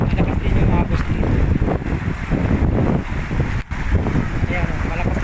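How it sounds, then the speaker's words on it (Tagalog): A strong river current rushes over rocks, a loud steady roar of flowing water with wind buffeting the microphone, close and continuous with one brief dip. "Malakas din yung agos dito."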